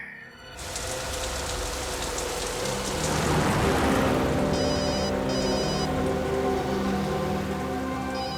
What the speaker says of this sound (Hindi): दयाबेन का फोन।